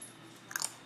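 A couple of quick, crisp crunching bites of Pop Rocks candy close to the mic, brief bursts against a quiet background.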